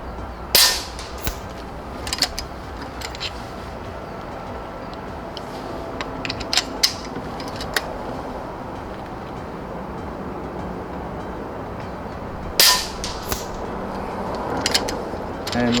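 A Vulcan 3 5.5mm air rifle shooting slugs, with a few sharp, sudden cracks spread apart over a low background of shuffling handling noise.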